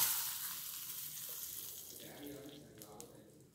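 Nuts fried in ghee being poured into tender coconut payasam, a soft sizzling and liquid pouring sound at close range, with faint clinks near the end.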